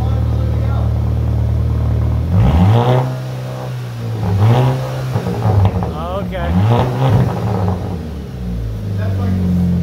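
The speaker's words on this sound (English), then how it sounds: "Rev it up." A VW MKV GTI with a straight pipe exhaust revs several times, each blip climbing then falling over a loud idle drone, close by, while people talk over it.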